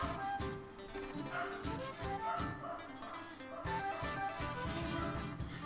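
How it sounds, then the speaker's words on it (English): A roommate's dog makes short yips and bow-wow barks in a few bursts, sitting under ongoing game music and sound effects at moderate loudness. "Pardon my dog."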